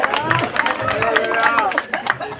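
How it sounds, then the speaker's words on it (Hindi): Crowd clapping and cheering at a Hindi poetry recital honoring Bhola Bhau, steady and close, with audience chatter mixed in. "भोला भाऊ के लिए जोरदार ताली बजाइएगा"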